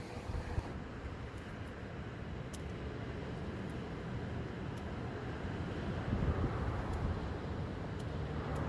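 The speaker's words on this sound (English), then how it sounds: "Oh yeah, goddamn wind." Wind blows steadily across the microphone at a seaside lookout on the central California coast at sunset, a low, continuous rumbling buffet that swells slightly toward the end, with no talking.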